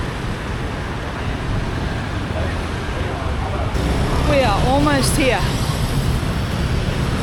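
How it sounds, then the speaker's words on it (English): Steady roar of busy city street traffic in Vietnam, thick with motorbikes, passing engines and a horn-like tonal blare midway, a voice speaking briefly over the din. "Traffic is pumping. It is Thursday and the traffic is full on. Motorbikes everywhere."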